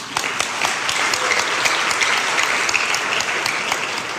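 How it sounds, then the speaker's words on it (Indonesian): An audience at a Christian religious talk breaks into applause, loud, dense clapping from many hands sustained evenly throughout. "Tepuk tangan."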